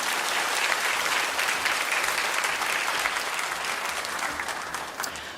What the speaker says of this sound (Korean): 우리 박수로 맞아드리겠습니다